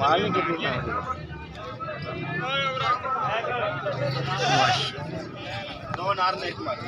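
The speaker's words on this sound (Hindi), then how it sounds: "ये 3 बच्चों की बकरी है" At a busy goat market, a goat with three kids bleats repeatedly in close, wavering cries over crowd chatter and people talking nearby.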